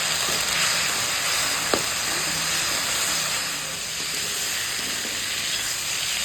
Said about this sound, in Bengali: এখন মশলার সঙ্গে সবজিখান কষিয়ে দেবো